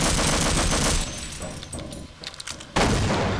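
Gunfire in the Half-Life video game: loud, dense bursts of rapid shots fill the first second, thin to scattered pops and a brief lull, then a heavy blast of fire returns at the end.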